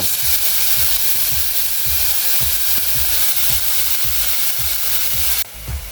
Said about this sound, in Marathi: आता या लसूणमध्ये ही मेथी छान कशी फ्राय करून घ्यायची